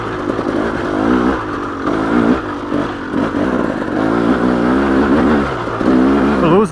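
KTM 300XC two-stroke dirt bike engine lugging at low revs in second gear over loose rocky uphill terrain, a loud close throbbing burble that rises and falls steadily without pause.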